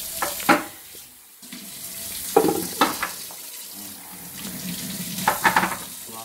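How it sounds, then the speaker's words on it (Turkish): Tap water runs into a kitchen sink while onions are washed by hand. The flow hisses on and off, with a few louder splashes and clatters as the onions are handled. No one speaks. "Soğanları yıkayalım."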